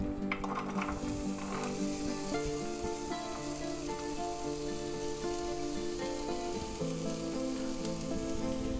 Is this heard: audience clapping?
no